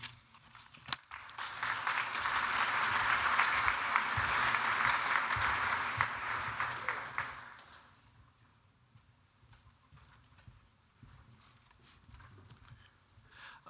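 Conference audience at a water users' annual meeting claps steadily for about seven seconds, then the applause fades to near silence.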